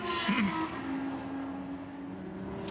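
A Lamborghini Super Trofeo race car sweeps past on the Jerez de la Frontera circuit, its engine tone sliding downward as it moves away, fairly faint and distant amid low track noise.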